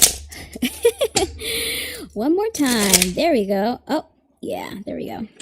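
Tarot cards shuffled by hand in quick, crisp riffles early on, then a voice talks over soft card handling with brief pauses.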